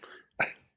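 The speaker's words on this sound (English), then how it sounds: "I hit the mute button so I could cough" A single short, muffled cough from one man, preceded by a breathy throat sound, fairly quiet and close.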